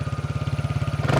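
A TVS Ntorq 150 scooter engine chugs in a fast, even pulsing beat up close, swelling louder as it catches and revs at the very end.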